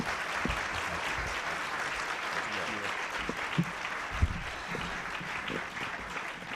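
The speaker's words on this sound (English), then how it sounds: "How about a round of applause for our speaker today?" A luncheon audience at the National Press Club gives sustained, even applause for a speaker, the IRS Commissioner, with a few louder claps standing out near the end.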